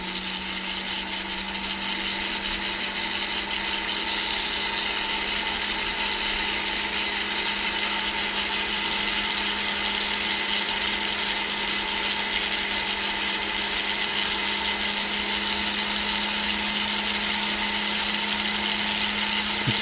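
A rotary tool smooths the freshly welded end of a metal jewelry piece, a continuous high-pitched grinding whine held steadily and close for the whole stretch.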